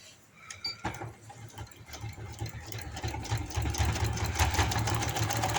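A sewing machine stitches a palazzo pant, a quiet steady mechanical whirr that builds and runs continuously close by, with no talk.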